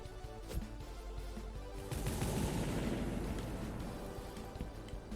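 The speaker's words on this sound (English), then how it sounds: "Hopefully the TNT will just explode." A TNT blast in the video game Cursed to Golf erupts about two seconds in, a loud, rumbling burst that lingers as a dense roar over a steady game soundtrack.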